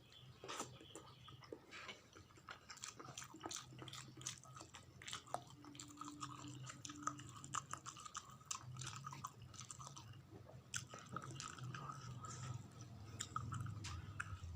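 Close, steady chewing and soft wet biting while eating fish head curry (gulai kepala ikan) during a mukbang, with faint clicks and drips throughout and no talking.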